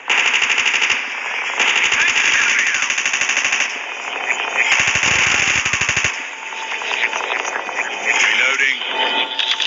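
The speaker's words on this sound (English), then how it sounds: "I could see an enemy, so now I'm sniping on him" Rapid gunfire in a Call of Duty battle royale match, dense bursts of automatic shots with sharp repeated cracks throughout, loud and close amid game effects and radio-like chatter.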